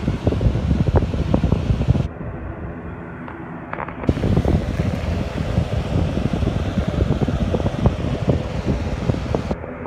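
Two fans blow in a garage, a steady close whooshing drone that briefly dips and changes tone partway through, with no talk.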